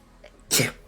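A single short sneeze, sharp and close, bursting out of near quiet and fading within a fraction of a second.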